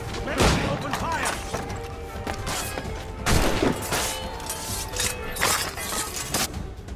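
Cannon and musket volley in the Assassin's Creed Rogue video game, loud cracking bursts of gunfire in a few heavy waves with booming thumps and rattling mechanisms, with voices shouting in between.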